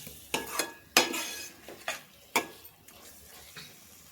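A spoon clinks and scrapes against a pot as tomato fenugreek curry is stirred after water is poured in, a handful of sharp metallic taps spaced irregularly over a soft simmering background.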